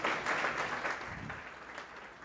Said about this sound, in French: Vous pouvez encore vous applaudir.